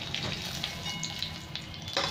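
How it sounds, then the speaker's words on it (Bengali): Whole cardamom, cloves, a piece of cinnamon and bay leaves sizzle in hot oil for egg biryani, a close, lively crackle with small pops and stirring scrapes over a short span. "এবার এই তেলের মধ্যে আমি 2টো ইলাইচি, একটু লবঙ্গ, এই ডালচিনির টুকরো আর 2টো তেজপাতা দিয়ে দিলাম"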